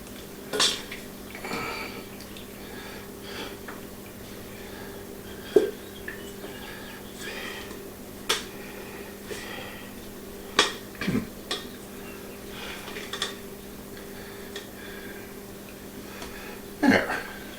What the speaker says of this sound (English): now let's go ahead and put our dough in